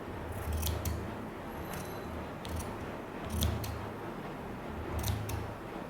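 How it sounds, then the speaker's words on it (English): Scissors snip through kimono fabric while the front piece of a kimono jacket is cut, giving a few quiet crisp cuts spaced about a second apart, close by and alone with no talking. "when you cut, you only cut on the front piece of the kimono"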